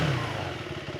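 A KTM Adventure 350cc motorcycle engine running nearby, a loud steady thrumming growl with a slight pitch drop at the start, heard alone for a brief moment.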